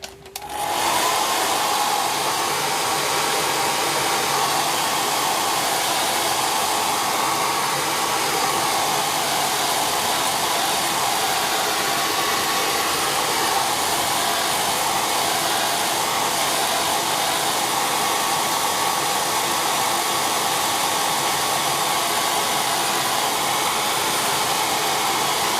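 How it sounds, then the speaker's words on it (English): A hair dryer runs continuously to dry paint on a purple door with a wisteria design, a loud, steady whirring blow that starts abruptly and holds unchanged throughout. "Okay, need the hairdryer again."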